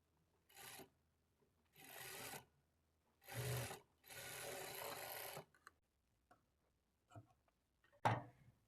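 A sewing machine stitches lining blouse fabric in several separate bursts of rapid whirring, each a second or so long with pauses between, and ends with a few quiet clicks and one sharp knock.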